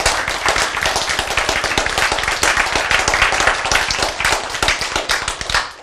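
An audience at a lecture or sermon claps together, a quick dense patter of hand claps that is loud and steady throughout, with no talk over it.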